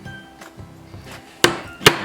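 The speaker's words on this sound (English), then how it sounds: "we're going to take just a sharp rap with your chisel" A chisel gets struck against a wooden source board, two sharp, close raps about half a second apart following quieter faint taps.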